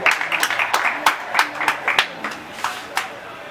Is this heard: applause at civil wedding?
yes